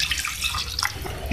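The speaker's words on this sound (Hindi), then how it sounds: "इसमें 2 गिलास पानी ऐड कर रही हूँ।" A steady stream of water pouring and splashing into a cooking pot, about two glasses' worth, close by and brief, with no talking.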